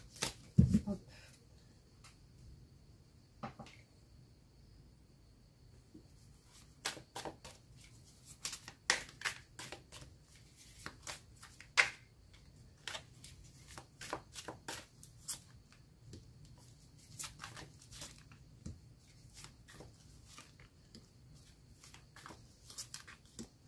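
Tarot cards being shuffled for a final draw make a run of crisp, irregular riffling snaps and card slaps, close and fairly quiet, with brief gaps of near silence between bursts.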